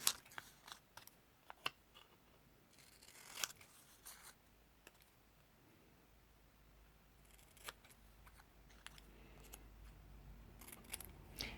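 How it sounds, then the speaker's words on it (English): Scissors snip through paper while a number 2 is cut out for an advent calendar bauble, a string of crisp close cuts with pauses and faint paper rustling between them. "we're going to cut out the number 2 and glue it down as well"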